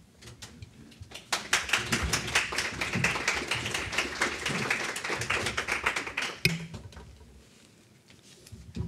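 Audience applause at a panel session on the European Court of Human Rights and children's rights: dense, steady clapping from a room full of people that swells, holds for several seconds, then thins out toward the end.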